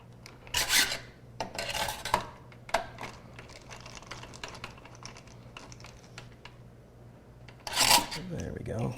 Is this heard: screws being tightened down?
yes